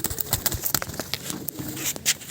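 Pigeons offered for sale coo and flutter close by, soft irregular calls and feather rustles mixed with brief pattering sounds.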